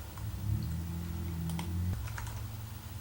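Close computer keyboard typing for an email address, a quick run of light key clicks over a low background hum, with no one speaking.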